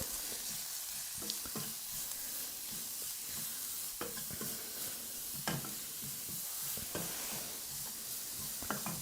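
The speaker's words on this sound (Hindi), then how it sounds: "और अब हम सारी चीज़ों को अच्छे से भूनेंगे" Finely grated cauliflower and peas are sautéed over low heat, making a steady hissing sizzle punctuated by light spatula taps and stirring scrapes; no talking.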